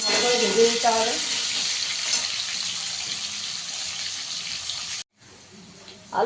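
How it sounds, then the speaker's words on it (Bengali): Potatoes fry in hot oil in a wok, giving a steady bright sizzle that holds for about five seconds, then cuts out briefly and returns more quietly. "কড়াইতে তেল দিয়ে দিয়েছি আলুটাকে একটু ভেজে নেব আগে"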